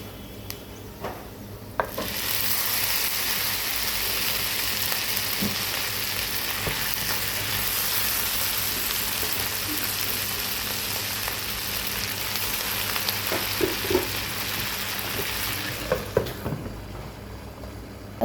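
Beef pieces drop into a hot pan of spiced oil for kala bhuna, setting off a loud, continuous sizzle that starts abruptly, holds steady with a few scrapes and clinks, then stops near the end.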